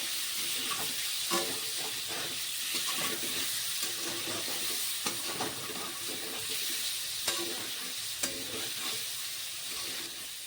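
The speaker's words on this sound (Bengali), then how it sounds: "পনিরটাকে হালকা করে একটু ভেজে নিই" Steady sizzling of paneer frying in hot oil, with occasional soft clinks and stirring scrapes throughout; no talking.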